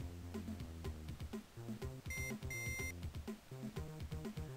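Paperboy on the Game Boy Advance plays a run of high electronic beeps over busy, bouncy chiptune music, sitting near and moderately loud in the mix.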